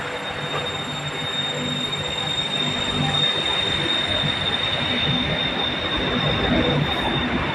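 A BTS Silom Line elevated train in Bangkok leaves the station, rolling steadily past with a continuous rumble and a faint high metallic whine, moderately loud and close, with no voices.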